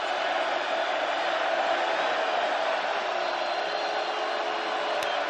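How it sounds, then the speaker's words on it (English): A stadium crowd roars steadily at a college football playoff game, South Dakota against Montana, sustained and loud with no break, as scattered whoops rise from the stands. "the crowd is after him"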